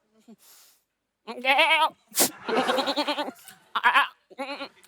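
A person on a comedy show imitates a goat, producing several loud, wavering bleats close by, separated by short pauses.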